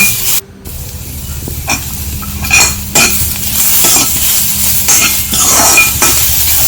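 Ginger and garlic sauté and sizzle in a pan, with a steady hiss of frying and repeated scrapes and clinks as a utensil stirs through them, close and fairly loud with no talk.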